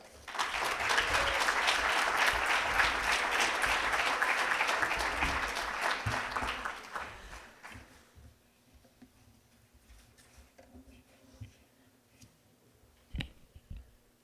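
An audience at an international justice panel applauds to welcome a speaker, a dense steady clapping that lasts several seconds before thinning out and fading into the quiet of the room.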